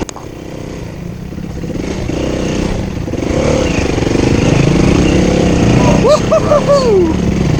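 A motorcycle engine drones steadily as the bike rides through long grass in Cambodia, growing louder and revving higher toward the end, with a brief shout over the engine near the close.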